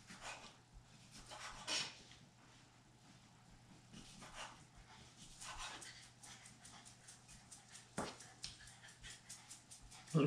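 A sick pet dog scampers around a home kitchen during cooking, with soft intermittent patters, claw clicks and light panting at close range; a faint steady hum runs underneath and no one speaks.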